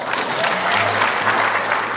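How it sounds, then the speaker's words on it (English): A crowd claps in a brief, steady burst of applause at the George West Centennial celebration in Texas, full and close throughout. "Round of applause."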